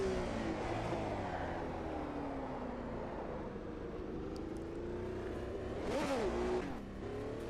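Brabham BT46B fan car from Automobilista 2 sim racing: a loud, continuous engine roar holding steady, then a quick rev rise and drop near the end, with no voices.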